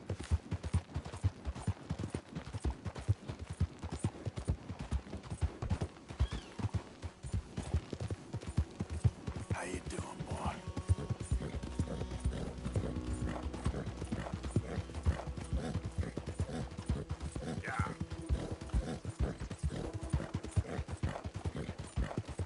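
Horse hooves clip-clopping steadily in Red Dead Redemption 2, a continuous rhythmic trot at moderate volume, with an occasional faint whinny and soft background game ambience.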